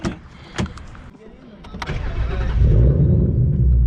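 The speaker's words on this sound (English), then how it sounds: "I'm gonna just move my car real quick." A car engine cranks and catches, then settles into a rising, rumbling idle as the car starts to move, heard up close with a person talking over the early part.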